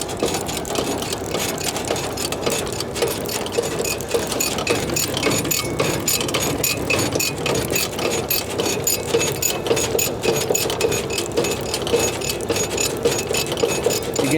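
Freshly oiled manure spreader mechanism running with a continuous fast rattling, clicking chatter at a steady pace, close and even in level, with no voices.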